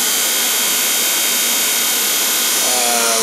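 A standard electric fan motor runs at about 2055 RPM, making a loud, steady whirring drone with a constant airy rush and no breaks.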